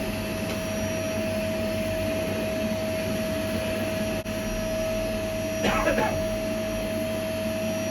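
A vacuum cleaner drones steadily with a constant whine, loud and close throughout, with a brief burst of extra noise near the end.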